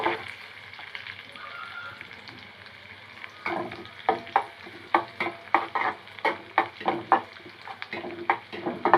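Almonds, cashews and raisins fry together in a pan with a steady low sizzle, then a spatula stirs and scrapes in a regular rhythm of sharp, close strokes over the hiss.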